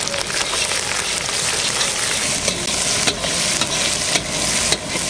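Ginger and garlic paste frying with softened onions in a pan, a dense crackling sizzle close by with several scraping stirs of a spoon, no talk.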